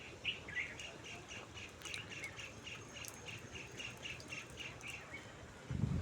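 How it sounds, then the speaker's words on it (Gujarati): Birds chirp in a quick, repeating series of bright calls at a moderate distance over a soft outdoor hush on a small hill facing a lake near Lothada, with a low rumble at the end. "પક્ષીઓનો કલશોર"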